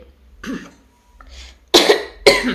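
A person coughs twice, sharp and close, right after some softer throat sounds, with no speech in between.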